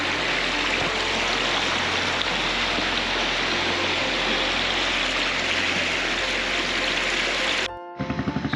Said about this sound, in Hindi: एक बार अच्छे से देख लो नदी